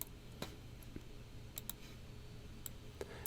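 Sparse, faint mouse clicks tick at irregular intervals over a low steady hum during video editing, a few sharp taps spread across a quiet background.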